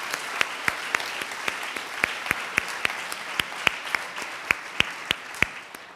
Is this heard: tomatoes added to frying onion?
no